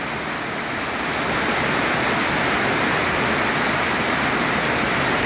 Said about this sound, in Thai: ฝนเริ่มบางลงแต่แรงนะครับ